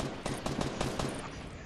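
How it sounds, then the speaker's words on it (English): Rapid bursts of hand cannon gunfire from a Fortnite squad match, a dense run of sharp shots that stays loud and close for the whole span with no talk over it. "It might be a hand cannon."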